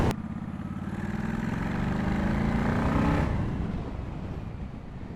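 Pickup truck passing a 2006 Honda VLX600 motorcycle on the road: a close engine drone swells to a peak and then fades as the vehicle goes by, over steady road and wind noise.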